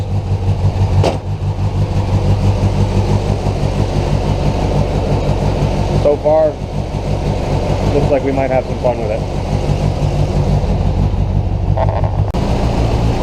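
A 1970 Triumph Spitfire engine running at a steady, lumpy idle close by, a low throbbing drone throughout while someone talks over it.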